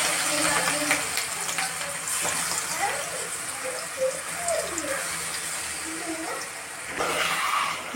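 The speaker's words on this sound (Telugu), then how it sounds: "మనం చికెన్ ఇప్పుడు ఆయిల్లో వేసేసుకోవాలి." Marinated chicken dropped into hot oil for a homemade chicken curry, giving a steady close sizzle and crackle that stays loud throughout, with a brief louder hiss near the end.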